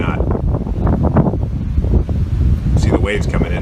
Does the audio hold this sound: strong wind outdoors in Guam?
yes